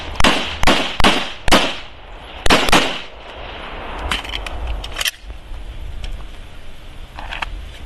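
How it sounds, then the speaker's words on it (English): Gunfire from a shooting drill practising recovery under threat: a rapid burst of loud, sharp shots in the first three seconds, then scattered fainter shots and clatter over steady background noise. "So I'm not going to stop shooting."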